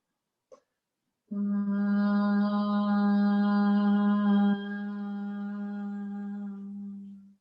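Group bhramari humming breath in a yoga therapy class, a steady sustained hum on one pitch lasting about six seconds, near and fairly loud, faintly tapering at the end; a brief tap comes before it.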